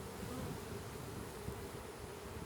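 Honey bees from an apiary of some 600,000 bees hum in a dense, continuous buzz, steady and fairly close, with no voices over it.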